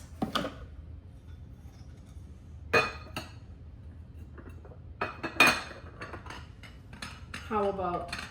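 A small glass ghost-shaped jar from IKEA clinks and taps in sparse, quiet knocks as it is handled indoors, with long near-silent gaps between contacts.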